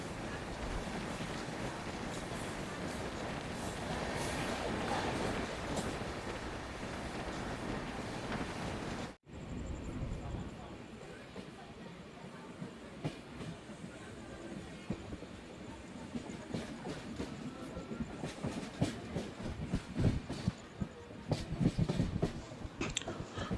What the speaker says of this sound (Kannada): ನಮ್ಮ ಟ್ರೈನ್ ಈಗ ಬೀರೂರು ಜಂಕ್ಷನ್ಗೆ ಎಂಟ್ರಿ ಆಗ್ತಿದೆ, ಪ್ಲ್ಯಾಟ್ಫಾರಮ್ ನಂಬರ್ 1ಕ್ಕೆ